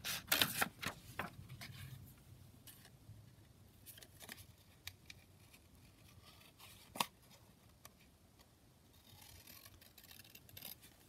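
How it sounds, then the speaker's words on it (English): Scissors snipping out paper pieces for a craft kit project, a string of quick, close snips and rustles, busiest at the start and then sparse, with no talking. "So I'm just going to cut these two."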